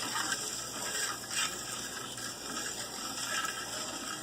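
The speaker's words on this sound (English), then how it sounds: "I guess once you hear all the scratching from the rock salt go away, you know it's all dissolved" Gritty scratching and grinding of rock salt being stirred in water, under a steady watery churn, continuous and close.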